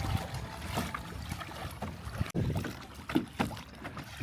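A Hobie pedal kayak heading into a south wind on Horsetooth Reservoir in Fort Collins, with close splashing and sloshing water and gusty wind buffeting the microphone, no voices.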